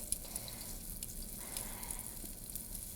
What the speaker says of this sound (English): you can see they're already starting to sizzle, which is great.